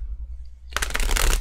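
Tarot cards being shuffled by hand: after a quiet moment, a dense, close riffling of cards bursts in and keeps going, a loud papery flutter with no talking over it.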